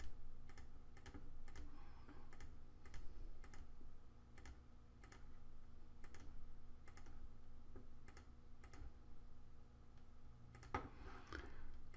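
Computer mouse clicks during drawing in Adobe Illustrator: quiet, close, evenly paced clicking that repeats steadily over a low background hum, with a slightly busier cluster near the end.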